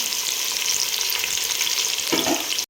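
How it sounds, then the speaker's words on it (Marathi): Onions fry crisp in hot oil for mutton biryani with a steady, loud sizzle, and a brief burst of stirring and crackling rises near the end. "आपण आता कांदा याच्यामध्ये तळून घेणार आहे"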